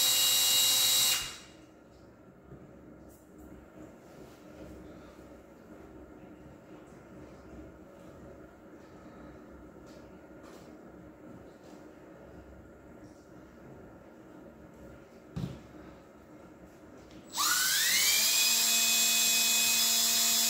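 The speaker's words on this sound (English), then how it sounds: "now I'm drilling a pilot hole here for this hole" A power drill whirs steadily while boring a pilot hole in tubing, preceded and followed by louder bursts of high whining motor noise.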